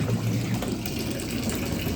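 Water runs loud and steady into a basin for the first rinse of laundry, a continuous close gushing fill.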